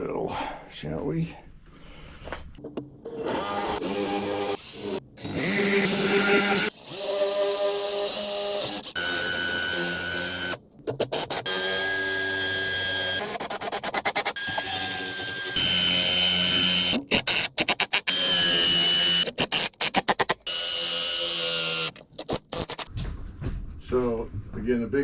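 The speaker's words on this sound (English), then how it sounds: "Now let's drill, shall we?" A power drill whines in sustained bursts during wall framing on a house rehab, its pitch rising and falling between brief pauses, close and loud, with people talking around it.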